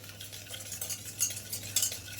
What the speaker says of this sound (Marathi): एकदम छानपैकी दोन ते तीन मिनटं हलवायचं आहे त्याला